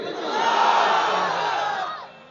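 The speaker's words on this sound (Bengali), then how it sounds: "বিবাহিত ভাইরা তাকবীর দেন" A crowd of married men at a married-versus-single contest shouts a loud takbir together, a sustained roaring group cry that swells and fades over about two seconds.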